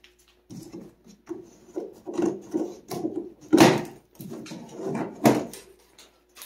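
Cardboard rubs and scrapes as a Zigna Argon budget road/gravel bicycle is pulled out of its shipping box, in a string of close, uneven handling bursts with short pauses between them.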